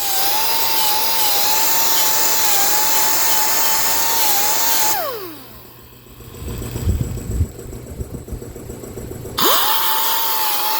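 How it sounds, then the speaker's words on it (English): Die grinder with a stone and a disc grinding back metal on a custom-made panel, a steady high whine held for about five seconds, then spinning down, with a quieter stretch of clatter and handling before the whine starts up again. "I'm just going to start grinding all this back here now between the die grinder and the stone and the disc"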